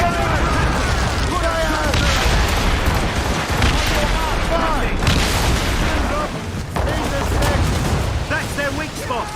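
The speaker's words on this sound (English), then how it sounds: "Mortars incoming, Shay!" Mortar explosions in the video game Assassin's Creed Rogue during a naval fight, heavy booming blasts rolling continuously over dense battle noise, with shouted voices mixed in.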